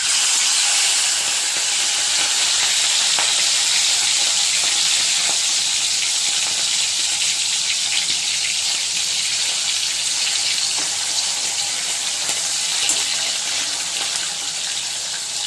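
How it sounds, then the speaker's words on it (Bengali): Prawns fry lightly in a pan in a home kitchen, giving a loud, close, steady sizzle and hiss that holds throughout without any speech. "প্রথমে মাছটা ভেজে নেব"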